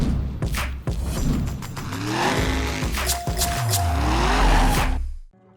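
Car drifting sideways on a track, engine revving and dropping through gears while tires squeal in long rising and falling screeches, loud and close, ending abruptly.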